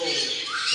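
A brief harsh bird squawk, close and fairly loud, lasting under a second.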